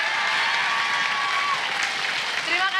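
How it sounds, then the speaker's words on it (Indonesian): A studio audience of women on an Indonesian comedy game show applauds steadily throughout, with a voice speaking over the clapping. "Tepuk tangan dong sekali lagi."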